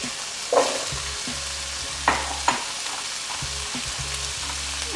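Onion and pepper hit a hot pan and fry on high heat, a steady bright sizzle with a few sharp clinks and stirring scrapes, close and loud, with a low hum underneath.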